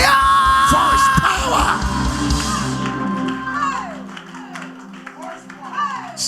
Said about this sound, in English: Give the Lord a clap and a shout